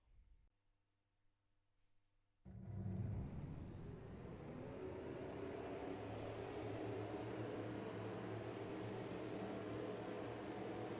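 Race trucks roll off at Lime Rock in a truck series racing video game; after a quiet start, a steady engine drone abruptly rises and holds at an even level to the end.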